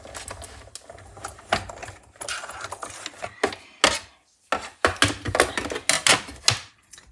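A Stampin' Up! embossing folder machine cranked by hand to push cardstock through, giving a series of close, sharp clicking and ratcheting knocks in uneven bursts, with a brief pause partway, and no voices.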